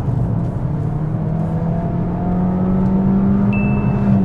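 Peugeot 308 GT Hybrid 225 plug-in hybrid, 2022, on a track at full throttle: a steady, loud engine drone that climbs slowly in pitch as the car accelerates, with a faint high whine appearing near the end.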